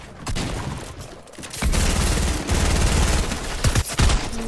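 Bursts of rapid automatic gunfire with loud booming shots, dense and close, continuing in clusters throughout without any talking.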